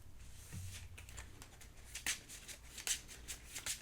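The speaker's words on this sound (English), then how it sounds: "I may shuffle all cards with a cost of 1 or greater back into my deck," A deck of cards for a DC deck-building game is shuffled nearby, producing soft, quiet riffling and patter with a few crisper snaps of cards toward the end, and no talking.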